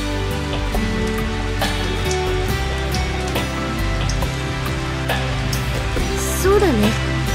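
Steady rain falls in the Kira Kira visual novel game, a continuous hiss that runs under background music for several seconds.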